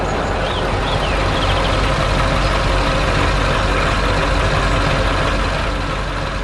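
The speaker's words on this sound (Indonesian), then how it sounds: "Truk kuning sedang bekerja keras di dekat rumah kuda merah." A yellow loader truck works on a farm in an animated scene, giving a loud, continuous low engine rumble that holds steady throughout.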